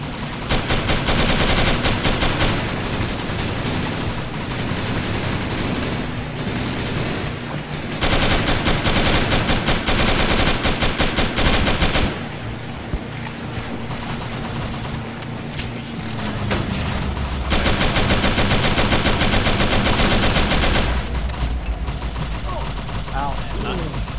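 Sustained machine gun fire from a war video game set in French Indochina, dense rapid bursts running almost continuously with brief lulls, loud and close throughout.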